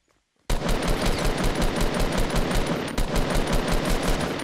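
Rapid automatic gunfire in Fortnite Battle Royale, a loud, close, continuous burst of evenly spaced shots that starts abruptly after a brief silence and runs to the end with one short break.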